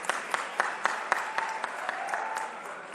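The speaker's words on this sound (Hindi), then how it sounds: "जरा एक बार ताली बजा के उनका स्वागत करें" An audience gives steady applause of moderate loudness to welcome the sports minister at a sports promotion event, with individual sharp claps standing out within the continuous clapping.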